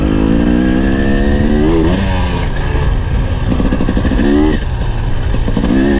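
A two-stroke Husqvarna/KTM TPI motorcycle with a tuned power valve is ridden in second gear, its engine loud and close, revving up and easing off repeatedly with a rising, falling buzz.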